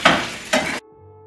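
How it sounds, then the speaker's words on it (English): Scrambled whole eggs fry in a pan, giving two short bursts of sizzling stirring that stop abruptly, leaving a faint hum. "So simply scramble your eggs and let them cook for about like 3 or 4 minutes"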